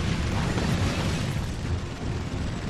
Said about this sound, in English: where did that missile come from?